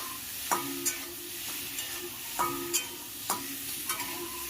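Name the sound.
stirring spices frying in pan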